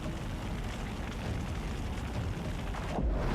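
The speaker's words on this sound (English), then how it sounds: "Jinx is using her fire breath, and explosions happen" Fire breath spell in Divinity Original Sin 2 unleashing explosions, a dense roaring blast of fiery rumble that stays loud and continuous, ending in a sharper burst near the close.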